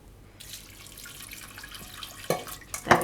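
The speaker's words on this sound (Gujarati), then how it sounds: "આમાં પાણી નાખી દઉં થોડુંક" Water is poured from a tap or vessel into a pressure cooker holding drumstick pieces set on a stand, a steady close splashing stream with louder sloshing bursts near the end.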